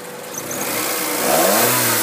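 A 1991 Honda Accord engine revs up with the AC on, the pitch rising steadily as it grows louder, close by with no talking.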